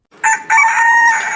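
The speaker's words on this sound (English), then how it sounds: "Rooster." A rooster gives a single loud, close crow that rises sharply and holds a bright, sustained note, with nothing else heard.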